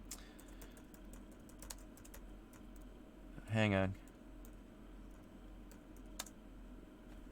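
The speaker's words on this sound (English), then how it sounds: "My typing skills are not always the best." Sparse keystrokes tap on a computer keyboard during a live Q&A show, quiet and close against a faint background hum, with a brief spoken phrase partway through.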